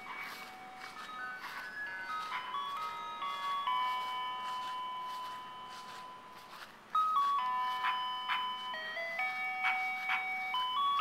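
A yellow van up the road plays a tinkling chime melody, like an ice cream truck tune, heard faint and distant outdoors. The repeating notes swell slightly louder partway through.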